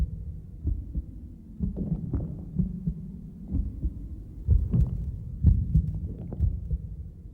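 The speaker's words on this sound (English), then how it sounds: "above the constant roar of its mother's heartbeat" A mother's heartbeat heard from inside the womb comes through as a muffled, low, rhythmic thumping under a constant whooshing roar, steady and close throughout.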